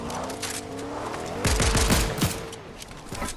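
Gunfire in the Fortnite video game: a short burst of several loud, closely spaced shots in the middle, with scattered quieter shots trailing off afterward over a steady background hum.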